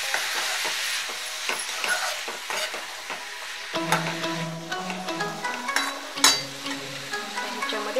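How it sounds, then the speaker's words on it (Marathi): Ridge gourd sabzi is stirred in a frying pan, a spoon scraping and clicking in a steady rhythm over a soft sizzle, with no voices. "सगळं एकत्र हलवून घ्यायचं। छानपैकी हलवायचं सगळं।"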